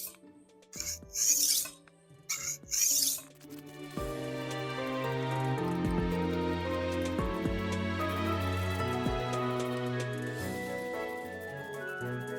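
A Smeg kitchen knife is worked across a wet 1000-grit Kurumaku whetstone: a few short scraping strokes at first, then a steady continuous grinding rasp that stays fairly quiet and close.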